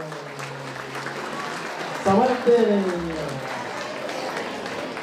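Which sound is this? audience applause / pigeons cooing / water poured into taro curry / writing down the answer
audience applause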